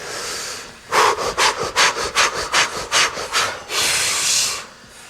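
Rapid fire breath exercise: about ten quick, forceful breaths pumped through the mouth in an even panting rhythm, close and loud, ending in one long sustained exhale.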